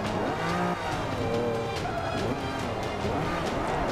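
A race car in Forza Motorsport 5 roars steadily at high revs, loud and close throughout with engine tones rising and falling, over a constant track-noise wash.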